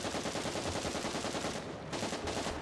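A PT-76 light tank fires a high-explosive shell from its cannon in War Thunder, a loud continuous blast of noise that fills the whole moment with no voices.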